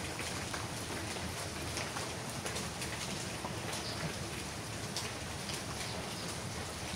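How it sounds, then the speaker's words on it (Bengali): Steady, continuous rain falls on a rainy day around a home kitchen where dal is being cooked, a dense even patter that holds at the same level throughout with no voices. "বৃষ্টি পড়তেছে, কি সুন্দর না,"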